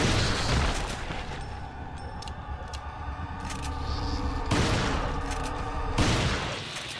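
Bursts of rapid gunfire in Resident Evil 4 crackle repeatedly, with sharp loud volleys separated by brief pauses, sounding close and punchy.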